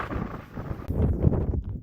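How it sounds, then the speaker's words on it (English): Cold wind gusts buffet the microphone on a mountain summit trail up Mount Sniktau in Colorado, a rough rushing noise with a sharper blast partway through. "It's definitely very cold and windy"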